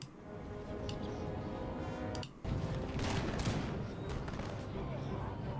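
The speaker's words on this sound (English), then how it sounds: "First rank opens fire, second rank moves forward, fires" Line infantry muskets fire rank by rank in a battle in Empire: Total War, a dense crackling fusillade of overlapping shots that rolls on almost without pause, with one brief gap midway and a voice talking over it.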